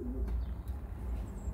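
Pigeons cooing in a breeding shed, a soft low coo near the start over a quiet steady background hum, close and brief.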